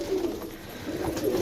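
Pigeons cooing on a rooftop loft, a steady low murmur of overlapping coos holding throughout at moderate level with no talk over it.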